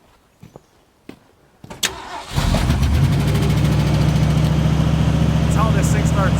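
A 1964 Chevrolet Impala engine cranks and catches after a few quiet knocks, then settles into a steady, loud, rumbling idle that runs on alone close by; a brief spoken word comes at the start.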